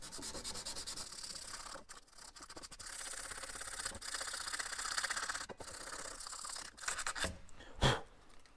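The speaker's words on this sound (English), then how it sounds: "now I'm going to do a bit of sandpaper next to it." Hand sanding of rusty steel with sandpaper, a steady close scratchy rubbing in long strokes with a few brief pauses, ending in a couple of sharper scrapes.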